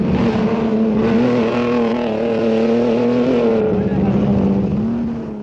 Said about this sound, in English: Second on the road, Walter Rohrl in the second Audi, closely pursued by Bjorn Waldegard